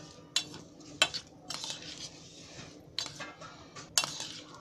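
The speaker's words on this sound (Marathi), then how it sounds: "आता एकदम मस्त अशी मिक्स करायची." A spoon stirs and clinks against a bowl while beetroot salad with lemon juice is mixed, giving a few sharp metallic taps over soft scraping, close by.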